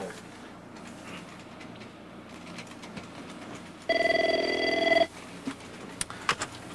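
A telephone rings once in a single loud burst of about a second, standing out against a quiet room with faint clicks and rustling before and after.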